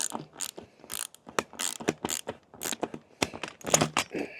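Clamps on a Cyclone Rack lawn vacuum hose are tightened with rapid, close ratcheting clicks in uneven bursts, with brief pauses between runs.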